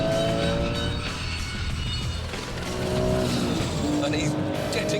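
Porsche 911 racing off from a rolling start on a circuit, a loud, continuous engine roar with rising pitch sweeps and some tyre noise, while a voice talks over the top.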